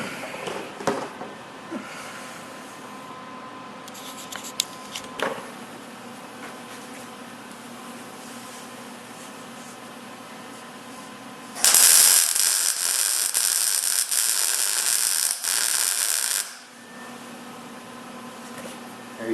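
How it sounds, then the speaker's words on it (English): An angle grinder grinds down a steel weld on a 1968 Camaro, a loud, harsh, high-pitched burst lasting about five seconds, preceded by quieter shop clatter and clicks. "I may actually grind that down a little bit."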